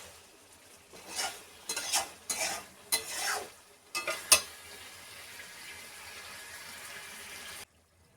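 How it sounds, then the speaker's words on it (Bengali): Chicken being sautéed and stirred in a pan for a home-style desi chicken curry, with bursts of spoon scraping and stirring over a steady sizzle, then a calmer stretch of frying before it cuts off. "এখানে মোটামুটি সুন্দর করে কষানো হয়ে গেছে, এরকম দেখতে লাগছে। আমি আরও একটু কষাবো।"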